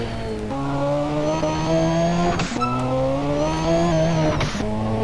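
Car engine in GTA San Andreas revving up through the gears, each gear a steady climbing whine that cuts off with a brief shift before rising again, loud and close with no talk over it.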